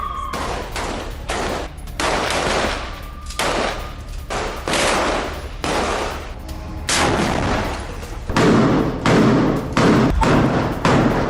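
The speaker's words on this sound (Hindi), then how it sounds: "हमास के ठिकानों पर आईडीएफ की गोलीबारी हुई है।" Gunfire from an IDF attack on Hamas positions in Gaza, a long string of loud shots and heavy thuds, some single and some in rapid bursts, with booming impacts and no voices over them.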